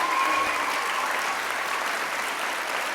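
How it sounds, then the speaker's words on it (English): An audience at a school awards ceremony claps steadily and evenly throughout, a dense wash of applause with no voices standing out. "give them all a nice round of applause"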